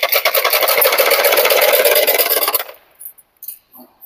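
A sewing machine stitches blouse fabric for a double katori blouse in a rapid, steady whirring buzz close up for about two and a half seconds, then stops, leaving a few faint taps.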